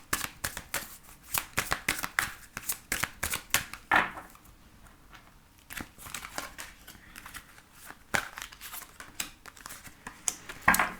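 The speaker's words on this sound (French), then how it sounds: "Donc ici, je vais mélanger les cartes et vous allez pouvoir choisir." Tarot cards shuffled by hand close up, a quick run of crisp riffling snaps and slides with short pauses between bursts, loud and without speech.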